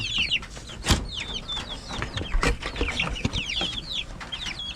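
Chickens cluck and chatter in short bursts while eating grubs from a rotten coconut tree trunk, several birds close by, with a few louder squawks rising over the flock.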